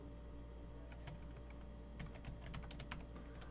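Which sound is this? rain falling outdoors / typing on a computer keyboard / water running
typing on a computer keyboard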